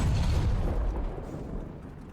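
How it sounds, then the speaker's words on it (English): Cannon fire from the War Thunder game, in its older 2013-era sound: a loud, dense booming roar that slowly fades over a couple of seconds, with no voices. "This is what the cannon sound sounded like,"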